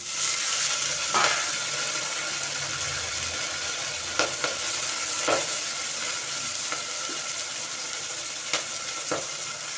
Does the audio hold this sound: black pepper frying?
yes